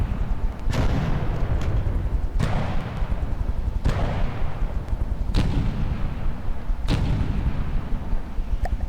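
Repeated booming weapon fire from a vehicle in the game From The Depths, five sharp heavy shots about every one and a half seconds over a constant loud low rumble, with no talking.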